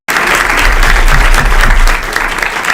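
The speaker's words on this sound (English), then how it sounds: "can I give a round of applause for the work you do?" A lunchtime panel audience on youth homelessness breaks into loud, dense applause, steady for about two seconds before tapering off, with faint voices underneath.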